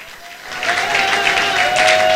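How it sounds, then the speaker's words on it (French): A church congregation applauding and cheering loudly, a steady wash of clapping and crowd noise that swells and holds throughout. "Tu peux acclamer très fort."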